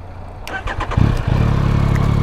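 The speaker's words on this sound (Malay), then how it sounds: "Okey, ha enjin pun dah hidup. Motor ni dia tiga silinder ah." A three-cylinder Yamaha Tracer 9 GT motorcycle engine cranks briefly, then catches and settles into a steady, close, throbbing idle.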